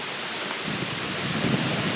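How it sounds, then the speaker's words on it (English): Thunderstorm with heavy pouring rain outdoors: a steady broadband rush of rain with low rumbling thunder swelling in the second half, fairly loud and without talk. "See the thunder."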